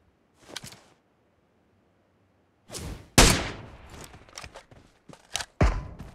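A designated marksman rifle fires in PUBG Mobile: a handful of sharp, separate cracks spaced irregularly over several seconds, mid-distance and moderately loud against near silence.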